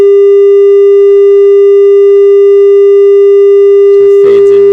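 A steady pure sine tone generated in Pure Data holds evenly at one pitch with faint harmonics, swelling in over half a second; near the end a voice begins talking over it.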